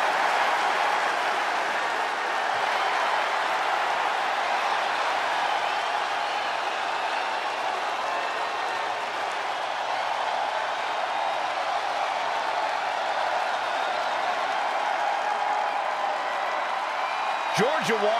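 A wrestling arena crowd in WWE 2K20 roars and cheers steadily for a women's cage match wrestler, a dense, constant wash of crowd noise with commentators talking over it.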